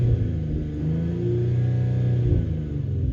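A Mercedes-AMG E53 Coupe revs with its exhaust set to the powerful mode, heard through open windows as a deep, rising and falling engine roar that swells through a couple of throttle blips, loud and close.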